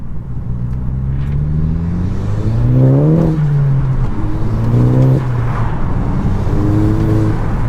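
A Mk5 Golf GTI engine with a cold air intake revs up and eases off in repeated swells, a deep throaty drone with a rising whine on each acceleration, loud and close throughout.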